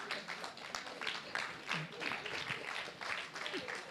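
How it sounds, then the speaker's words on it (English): An audience at a launch event in the Parliament of Uganda applauds for Daniel, with brisk clapping throughout and people talking over it. "Please continue clapping."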